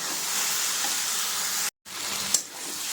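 Steady sizzling hiss of cabbage frying with fish heads in a pan, stirred continuously, close and fairly loud, a brief cutout midway, then a light scrape of the spoon.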